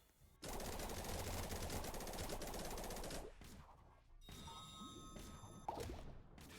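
The Scythe character firing in Phighting, a rapid machine-gun-like burst lasting about three seconds, then a short pause and a second, choppier burst with sharp impacts and ringing electronic tones.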